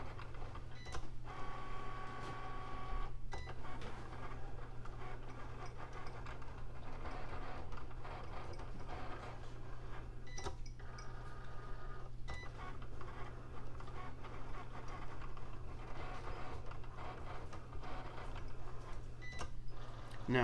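A Cricut machine cutting a printed sticker sheet, a steady low motor hum with faint repeated whirring and shuffling carriage movements running continuously.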